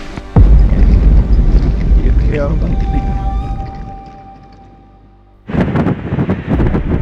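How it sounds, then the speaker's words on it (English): Strong wind on Mount Kazbek buffets the microphone with a heavy roaring rumble that eases off, then gusts back hard and loud near the end. "It's very, very windy up here."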